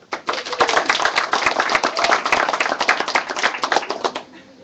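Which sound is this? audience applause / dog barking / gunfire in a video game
audience applause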